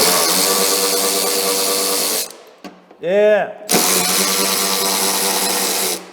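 A loud electric power tool whirs steadily, cuts out briefly while a short voiced sound and a whining rev-up occur, then runs continuously again.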